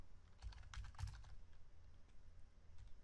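Computer keyboard keys tapped while typing code, a faint close run of light clicks in a quick burst then sparser keystrokes trailing off.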